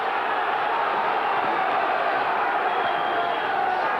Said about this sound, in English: Crowd on their feet here in this Brentwood centre as Ampofo throws in everything.